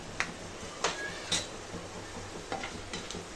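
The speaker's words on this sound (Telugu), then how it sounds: "ఈ పల్లీల్ని కొంచెంసేపు ఫ్రై చేసుకోవాలండి" Peanuts fry in a pan while a spoon stirs them, making a low steady sizzle broken by a few sharp scraping clinks of the spoon against the pan, close and fairly quiet, with no talk.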